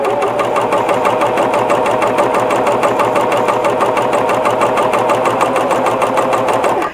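A sewing machine runs a T-shirt seam in one continuous, evenly paced stitching whir, close and loud, with no talking.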